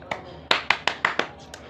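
A few people clap by hand in about six sharp, evenly spaced claps, close and fairly loud, in a quiet indoor setting.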